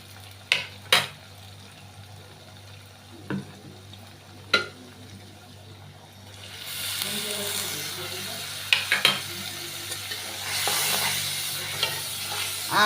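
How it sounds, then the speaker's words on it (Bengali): Spices being sautéed with fried onions in a pan for a tengra fish curry; a few sharp utensil knocks give way to a louder, rising sizzle with stirring, close up and without voices. "এখন আমি মশলাটি দিয়ে দিব কষানোর জন্য"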